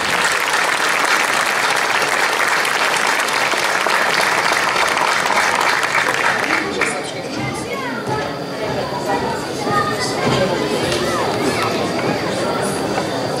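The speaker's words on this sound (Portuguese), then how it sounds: "Muito obrigada pelas vossas palmas." Audience applause at a Portuguese cantoria performance, loud sustained clapping from a crowd for about seven seconds, easing into chatter and a voice speaking over the fading claps.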